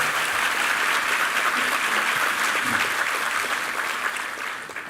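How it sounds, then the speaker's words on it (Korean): A church congregation claps in welcome for a visiting university president at a Sunday service, sustained dense applause filling the hall and tapering slightly at the end, with no speech. "우리 총장님 박수로 환영해 주십시오."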